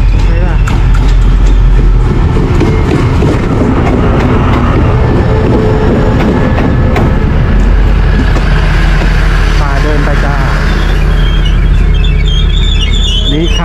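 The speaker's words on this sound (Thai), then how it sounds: "รถไฟมาแล้วนะ" A train rumbles and rattles steadily close by as it arrives at a station in Thailand, with a continuous rolling clatter and a low engine drone, pulling in alongside.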